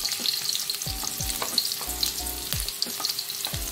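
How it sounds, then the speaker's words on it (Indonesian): Garlic and onion fry in hot oil in a pan, a dense, steady sizzle with repeated scraping stirs at a regular rhythm, close and fairly loud with no voices. "Kita goreng bawang putih"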